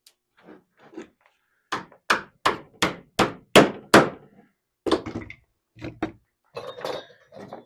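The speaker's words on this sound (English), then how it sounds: "Just using your cobbler's hammer and your clinching iron, place the clinching iron on the back side of the Inwale that you're nailing to provide support" Cobbler's hammer driving nails through a boat's inwale against a clinching iron held behind, during bow stem and inwale repair: a quick series of about eight sharp, ringing metallic blows near the mic, then a few scattered knocks.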